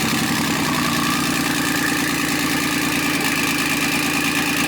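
A BMW 335i with a big turbo upgrade, fresh injectors and a misfire, idling, with a steady engine hum and rumble that stays constant throughout and has no talking.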